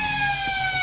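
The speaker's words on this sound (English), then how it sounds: "As the siren sounds to commence the last quarter" A match siren blares at an Australian rules football game in the Upper Great Southern league, signalling the start of the last quarter; a loud, steady, sustained tone with harmonics holds throughout without talk.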